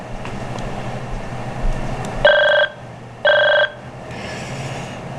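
A MagicJack phone line rings through a call: two clear, loud electronic ring bursts about a second apart, each with steady twin tones, rising over a low background hum.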